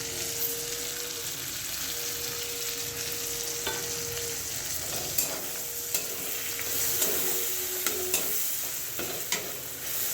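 Spices and masala sautéing in a pan for a tilapia curry, a constant sizzling hiss with repeated spatula scrapes and clinks as the mixture is stirred, no voices.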